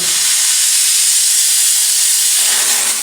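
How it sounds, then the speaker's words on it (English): A steam cleaner with hot water injection blasts a motorcycle, giving a loud, close, continuous hiss of spraying steam and water that shifts slightly in tone near the end. "This is just the regular steam, and then this would be a hot water injection."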